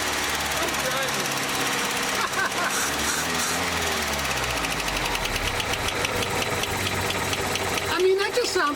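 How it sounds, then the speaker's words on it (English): A 1967 International Scout 800 engine runs steadily with a busy, rapid ticking clatter, consistent with valve tick, over a continuous mechanical drone. "I mean, that just sounds like maybe a little bit of valves."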